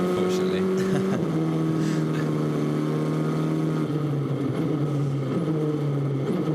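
Formula 4 race car engine heard from on board during a warm-up lap at Alastaro in the SMP F4 Championship, a steady loud buzzing drone that steps through gear changes, with commentators talking over it.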